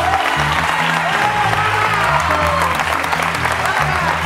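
Studio audience applause on a Spanish evening TV talk show, dense and steady for several seconds, with music and voices layered underneath.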